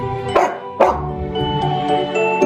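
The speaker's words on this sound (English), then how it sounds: "is for dog" A dog barks twice in quick, sharp yips over a bright children's song, with the music carrying on steadily around the barks.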